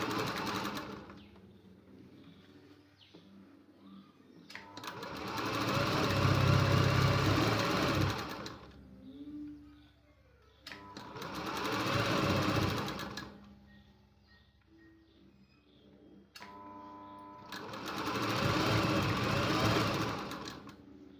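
Sewing machine stitching a fabric strip onto a blouse, running in three long bursts of a few seconds each with quieter pauses between, close and steady.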